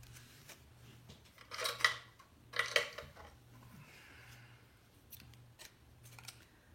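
Scissors trimming paper tabs on four sides: two loud, crisp snipping cuts close to the mic, followed by softer clicks and small handling sounds against a quiet background hum.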